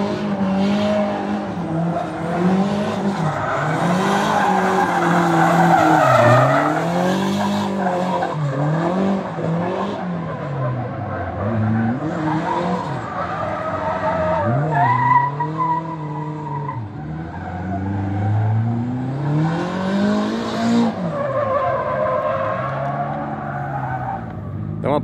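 On a drift track a car slides and skids with tire squeal, the engine note swooping up and down across repeated drifts. The sound stays loud and steady for the whole stretch.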